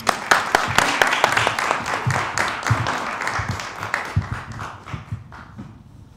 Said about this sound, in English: Let's start by warming the space and having a nice little round of applause